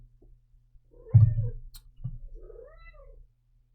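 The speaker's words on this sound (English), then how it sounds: "My cat now came to investigate." A house cat gives a pair of soft drawn-out meows, close by and fairly quiet, in an otherwise calm room with no speech.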